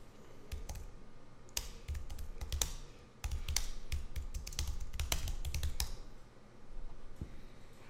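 Fast typing on a computer keyboard, close and fairly quiet, in bursts of rapid clicks broken by brief pauses.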